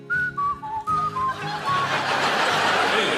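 A man whistles a short descending tune imitating an old doorbell chime, several clear notes in a row, before a live audience breaks into laughter and applause.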